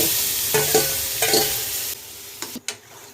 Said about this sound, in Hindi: अब इसमें हम ये अपने बैंगन डालेंगे जो हमने पहले से तैयार कर रखे थे।